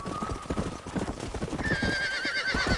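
A horse in Red Dead Redemption whinnies over a steady clip-clop of hooves, close and loud, the neigh rising in pitch partway through.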